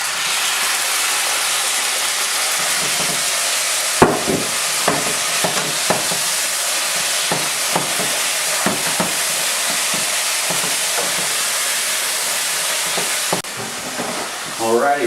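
Venison and onions fry on a stove set to high heat, a loud continuous sizzle with intermittent stirring and scraping clatter across the pan.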